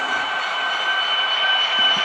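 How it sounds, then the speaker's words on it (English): A train running on a model railroad layout: a steady whirring rumble with thin, high squealing tones, moderately loud and unbroken, with no talking. "that's the other train that's coming up"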